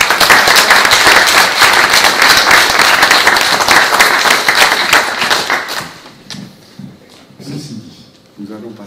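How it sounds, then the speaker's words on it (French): Audience applause at a meet-up, loud and dense clapping for about six seconds before fading into a quieter room with scattered sounds. "Et je vous félicite et je vous applaudis."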